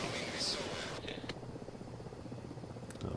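A single-seat helicopter in a combat flight game drones on steadily as a low, continuous rotor-and-engine rumble, moderately loud and unbroken, with a brief higher-pitched hiss near the start.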